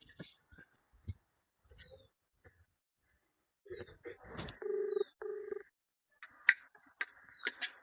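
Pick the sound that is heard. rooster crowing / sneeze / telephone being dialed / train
telephone being dialed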